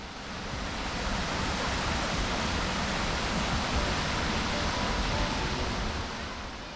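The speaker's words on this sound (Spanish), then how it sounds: "se comienza a divisar la más famosa y espectacular catarata del sendero" Broad, steady roar of a limestone-cliff waterfall with a single 14-metre drop on the Ingleton waterfalls trail, a dense unbroken rush of falling water heard on its own throughout.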